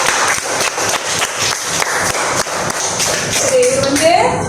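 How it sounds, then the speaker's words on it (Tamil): Students in a classroom clap for a classmate: a brief burst of uneven, close clapping from a small group, with scattered taps and shuffling and a voice near the end. "இவர் கைத்தட்டல் கொடுங்க"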